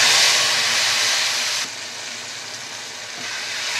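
Spice paste frying in a pan with mustard seeds, kokum, asafoetida and turmeric makes a broad, steady hiss. It is loudest at first, then drops to a softer continuous sizzle, with no talk.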